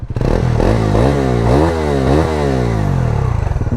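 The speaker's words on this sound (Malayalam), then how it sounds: "എക്സോസ്റ്റ് നോട്ട് ഞാൻ ജസ്റ്റ് കേൾപ്പിച്ച് തരാം" A Bajaj Pulsar NS400Z motorcycle revs hard, its loud, close exhaust note rising and falling through several sharp throttle blips over a steady, throaty drone.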